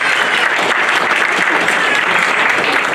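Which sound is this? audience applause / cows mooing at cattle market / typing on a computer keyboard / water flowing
audience applause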